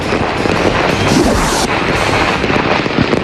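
New Year's 2011 fireworks make a loud, dense, continuous crackle with muffled booms mixed in.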